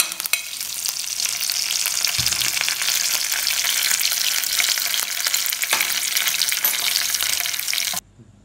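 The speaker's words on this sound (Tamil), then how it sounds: "எடுத்து வச்ச சீரகம் சோம்பு நல்லா பொரியட்டும்" Cumin, fennel seeds, green chillies and curry leaves crackle and sizzle loudly in hot oil, a dense steady frying hiss with brief bursts as items go in, cutting off abruptly near the end.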